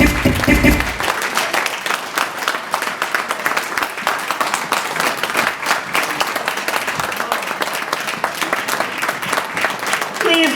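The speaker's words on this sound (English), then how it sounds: "Please give Dr. Annette George a round of applause" An audience at a keynote on eradicating disease in Nigeria breaks into sustained applause, dense clapping continuing steadily throughout after a brief moment of voices at the start.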